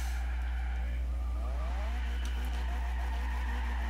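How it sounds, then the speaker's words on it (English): A Renault Alpine A110 in Forza Horizon 2 spins its rear tires, the engine droning under a rising, sweeping tire squeal that peaks mid-clip, with a heavy constant low rumble. "It really likes to spin up the back tires"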